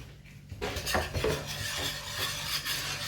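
A whisk scraping and knocking against a frying pan while stirring, close and clattering, with metallic scrapes over a faint sizzle; the pan is being used for steak with chips and broccoli.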